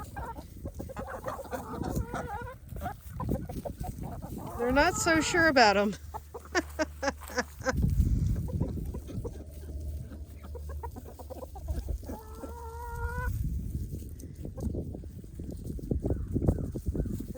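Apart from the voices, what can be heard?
chickens clucking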